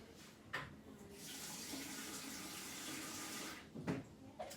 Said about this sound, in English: And this is just normal tap water.